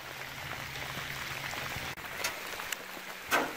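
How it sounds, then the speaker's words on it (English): Heavy rain pours outdoors during an out-of-state trapping trip, a dense steady hiss of drops with a few sharper splats and knocks, close and continuous without speech. "here we are in the pouring rain"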